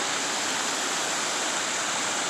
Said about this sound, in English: There's the waterfall majestic.